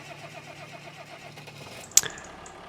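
Tractor engine in Farming Simulator, a low steady engine drone followed near the end by a sharp mechanical start-up burst and brief rising rumble, with no talk over it.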